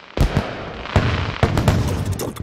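Bonfire Night fireworks give a string of sharp cracks and booms, several loud bursts a fraction of a second apart over a continuous crackling, fizzing hiss, close and loud with no talk.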